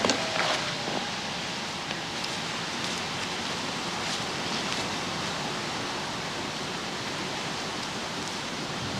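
Steady rain falling across the Oakmont golf course during the final round of the 1992 U.S. Women's Open, a broad, even hiss that holds constant throughout, with no voices over it.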